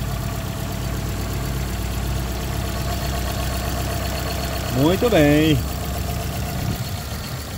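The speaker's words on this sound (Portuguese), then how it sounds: "Pedi para o amigo da partida aqui para a gente escutar o ruído aqui desse motor." A used car's engine idles in a steady low, even rumble that continues throughout, with a short spoken phrase rising over it near the end.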